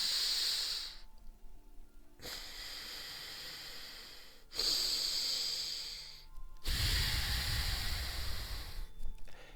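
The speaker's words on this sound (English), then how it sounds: "Kapalabhati breathing." Kapalabhati yoga breathing: rapid, forceful nasal exhalations come in three bursts of hissing, snorting breath separated by short pauses, close and fairly quiet.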